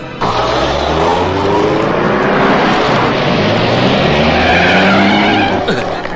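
A car in a film scene skids loudly and continuously for several seconds, a dense roaring screech of tires and engine that fills the whole clip.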